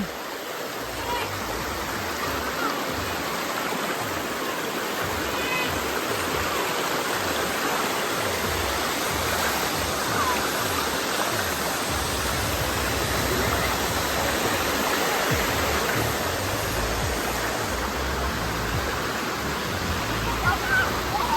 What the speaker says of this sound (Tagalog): that's the falls